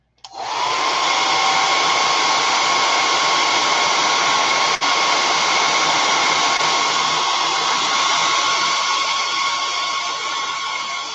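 A hair dryer blows steadily on a drying watercolor painting, a loud continuous whooshing whine that starts abruptly and holds at an even level for about ten seconds with no talking.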